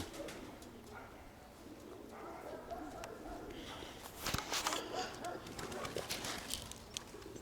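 Pigeons coo softly amid outdoor ambience, with a few brief flutters and rustles building toward the end.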